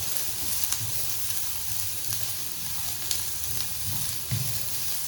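Chopped carrots sizzle and fry steadily in a pan, a constant close hiss with faint stirring scrapes and small pops, no voices.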